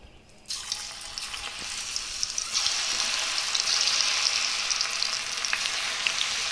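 Onion pakoda dropped loose into hot oil in a kadai, bursting into a loud, steady broadband sizzle after a brief quiet start, the frying building and holding strong throughout.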